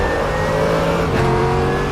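A loud GT3 and GT4 race car engine roars close by during a RaceRoom multiclass championship race, with one brief pitch shift partway through and no talking.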